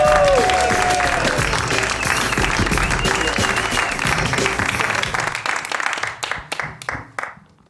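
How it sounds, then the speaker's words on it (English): An audience at a comedy show breaks into loud, sustained applause with some cheering, then the clapping thins out into scattered individual claps and fades away. "Put your hands together for the one, the only Mike Samp."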